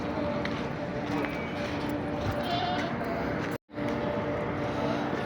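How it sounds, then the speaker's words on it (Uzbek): Sheep bleat amid a busy outdoor animal enclosure, their calls mixed into a dense wash of crowd noise and murmuring voices, with a brief dropout near the end. "Qo'ylar ham bor ekan."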